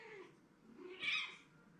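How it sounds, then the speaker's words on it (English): A pet cat gives a faint, short meow over quiet room background, with no one talking. "Yes, kitty cat, I see you."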